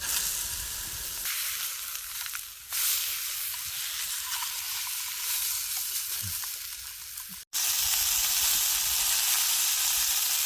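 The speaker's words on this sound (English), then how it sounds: "we need to sear off the rabbit thighs" Rabbit thighs searing in a pan at a backcountry camp cook, a loud, bright hissing sizzle that swells as the meat hits the hot surface, with a brief break before the sizzle resumes at full strength.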